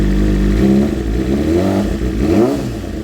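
A custom 2024 BMW M1000RR motorcycle engine revs up and down several times close by, rising and falling in pitch with a rough, throaty clatter.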